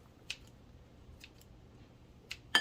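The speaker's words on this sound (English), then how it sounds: "we're gonna do the pepperoni. Cut it. And then, we're gonna cut it smaller." Pepperoni being cut into smaller pieces: three or four short, crisp snips spaced about a second apart, quiet and close, with no talking.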